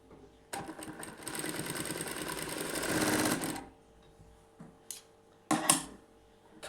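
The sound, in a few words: sewing machine stitching fabric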